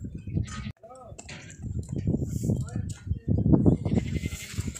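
A large two-tooth male sacrificial goat bleats in short wavering calls at a livestock sale, partly masked by someone talking loudly close by.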